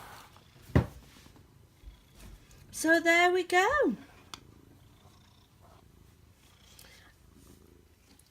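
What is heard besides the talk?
cat purring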